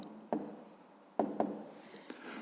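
A pen writes an answer by hand during a fifth-grade maths exercise: a few short, quiet scratching strokes with brief pauses between them, close by in a quiet room.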